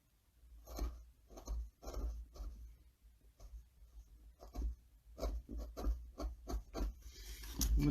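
Parting tool cutting into wood while carving a dragon, a series of short scraping, rasping strokes, about a dozen in quick succession, close and distinct with brief gaps between them.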